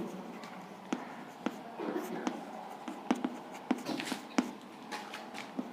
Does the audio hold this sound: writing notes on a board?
yes